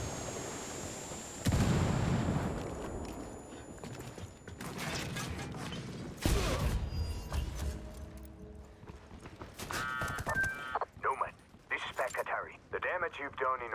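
A frag grenade bursts in the tactical shooter Ghost Recon Wildlands as a heavy, sudden blast, set among other booms, mechanical clatter and scattered gunfire, with voices speaking through the action.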